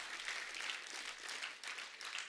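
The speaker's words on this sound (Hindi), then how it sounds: "पर यार ये तालियां बनती यार" Studio audience applause on an Indian comedy talk show, a steady dense wash of clapping that stays fairly even throughout with a brief dip near the end.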